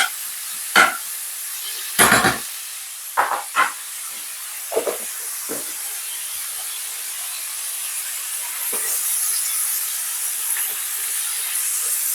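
Butter melts in a pot for Jamaican callaloo with a soft, steady sizzling hiss, broken by a few brief clatters of utensils near the start, and no talking.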